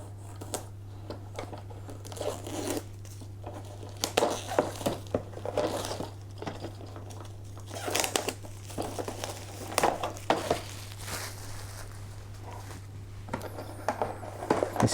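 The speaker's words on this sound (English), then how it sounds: "Anyway, let's unbox these." Packaging of a Warhammer 40K Ork Stormboyz plastic kit being opened, with intermittent crinkling, tearing and rustling of cardboard and plastic over a steady low hum, close and fairly quiet, no talking.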